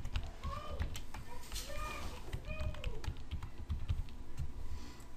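Rapid, steady keystrokes on a computer keyboard while a password is typed during a local PHP server setup, with a person talking over the clicking.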